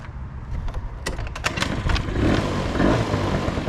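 A Honda Aero 80 scooter is kick-started and fires on the first kick, a few sharp clattering strokes giving way to a close, buzzing idle that briefly revs.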